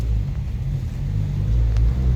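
A modded Subaru WRX with an FA20 engine runs with a close, steady low rumble and a light, even idle, heard alone.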